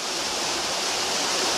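Small waterfall in the Dominican Republic running low on a river with little water, a steady, even rush of falling water filling the clip without pause, fairly close and moderately loud, with no voices.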